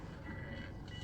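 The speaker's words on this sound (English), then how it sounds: "Alarm beeping. We're backing up, classy on Japanese JDM vehicles." Reversing alarm on a Mitsubishi Delica, a Japanese JDM van, backing up; a steady electronic tone repeats evenly over low engine rumble and cabin noise.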